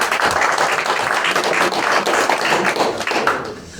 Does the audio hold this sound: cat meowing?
no